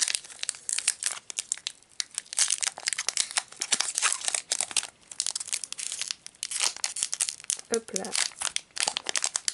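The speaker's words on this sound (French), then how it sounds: "Ensuite on va ouvrir ce petit booster là." A Pokémon Sun and Moon card booster pack wrapper is torn open and crinkled by hand close up, a series of sharp plastic rips and crackles, while a voice speaks briefly.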